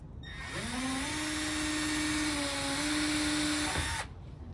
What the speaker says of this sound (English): now I can take my pre-drill and I can come in right here